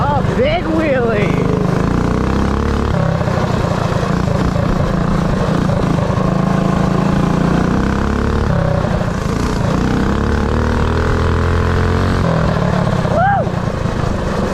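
Mini pit bike engine revving hard during a wheelie in a yard, a loud, close, continuous buzzing engine note that rises and falls in pitch, with people talking and cheering over it.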